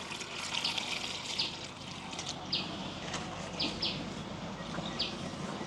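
Water poured over cut raw jackfruit pieces in a village kitchen. It makes a faint, steady trickle with small splashes throughout.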